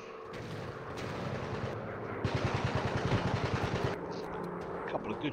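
Warplane machine guns in a Quest 2 flight game rattle in a rapid, steady burst over a droning engine roar, fairly close and sustained for a couple of seconds.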